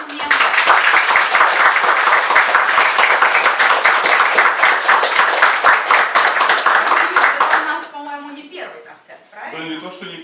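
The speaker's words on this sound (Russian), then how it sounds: "Давайте еще раз подарим бурные аплодисменты." Audience applause at a winter evening concert in a children's arts school, dense sustained clapping from a large crowd that fades out into people talking.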